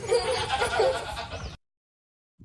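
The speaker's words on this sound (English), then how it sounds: "G for goat." A cartoon goat's bleat in a children's alphabet phonics song, a loud wavering cry lasting about a second and a half before cutting to silence.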